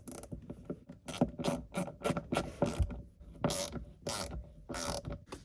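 Screws tightened into a plastic 67 Designs phone mount, heard as a close run of sharp ratcheting clicks in quick bursts, fairly loud and alone.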